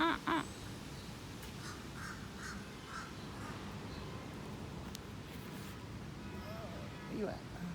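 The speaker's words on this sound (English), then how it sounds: "You came around a couple times, that crow." A crow caws twice in quick succession at the start, clear and fairly near, followed by a faint distant caw or two amid quiet outdoor background noise.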